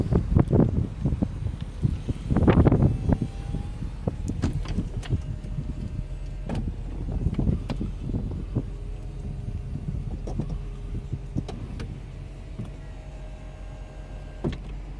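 A 2009 Mercedes SL550 convertible with flood damage raises its power roof, giving a mechanical electric whir with clicks and latching clunks, loudest early on, then quieter motor and creaks alone, recorded close by.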